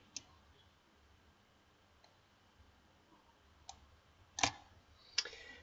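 A computer mouse clicks a few times in a quiet room while navigating a Drupal CMS admin screen, with isolated faint taps, then two sharper, louder clicks near the end.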